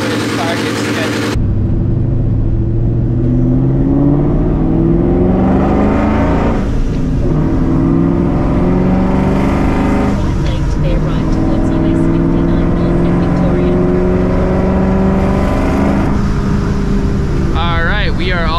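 A supercharged 2004 Ford Mustang GT with a stock motor revs hard on a dyno, its loud engine note climbing steadily in long sustained pulls close to the microphone, with a whine rising near the end.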